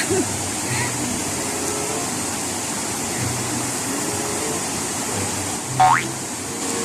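A steady rushing roar of water pours continuously at Bolinao Falls, with a brief bright splash or boing-like blip near the end and faint voices mixed in.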